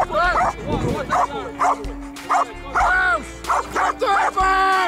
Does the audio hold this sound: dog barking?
yes